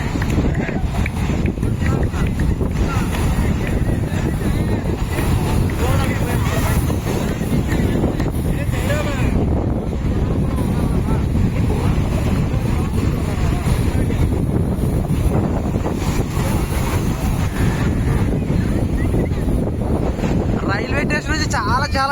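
Strong wind buffets the microphone over the steady wash of sea waves at Rock Beach in Pondicherry, a dense, unbroken roar across the whole stretch.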